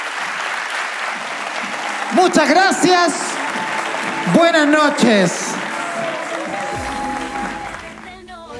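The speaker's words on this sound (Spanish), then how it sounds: "Aplausos, por favor." A theatre audience at Centro Mori applauds at a live comedy show, a steady wash of clapping that runs nearly throughout while voices speak over it near the microphone.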